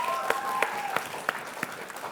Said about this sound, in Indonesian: Sekali lagi tepuk tangan untuk Raihan.